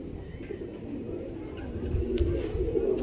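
A pair of pigeons coos steadily at close range in soft, low repeated calls, with a dull background hum and no talking.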